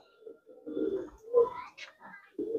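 Teddy pigeons in a loft cooing in short, soft, throaty bursts, with a few pauses between calls, fairly close and moderately loud.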